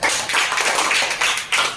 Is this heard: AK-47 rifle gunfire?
no